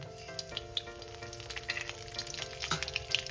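A dried red chilli and nigella seeds fry in a little oil as a tempering before eggplant goes in for a neem-eggplant dish, giving a soft, close, crackling sizzle with tiny pops and faint stirring, no talk.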